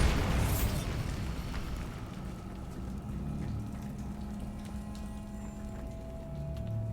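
The Bombarda spell bursting in Hogwarts Legacy: one loud blast at the very start that decays into a long rumbling tail, with faint magical humming lingering afterward.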